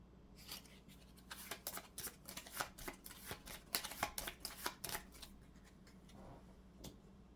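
Deck of cards for the Skyrim adventure board game being shuffled together, a quick run of crisp riffling flicks and soft slaps close by, with no voices.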